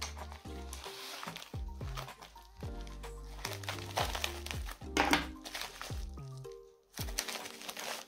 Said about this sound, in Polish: Otwieramy następną paczuszkę.